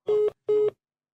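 A telephone busy signal after a call cuts off, two short identical beeps of the same steady tone with a gap between them, then silence.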